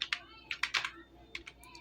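A computer keyboard taps out a file name in a few quick, close clicks, quiet and in an uneven rhythm with short pauses.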